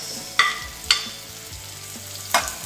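Tomatoes going into red onion sautéing in a pan make a low sizzle, with three sharp clinks of a utensil against the pan at uneven intervals.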